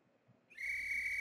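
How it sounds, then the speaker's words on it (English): A whistle is blown indoors: after a quiet start, one sharp, loud, sustained tone begins partway through and holds steady to the end, echoing in a room. "the sound of a whistle echoes throughout the room"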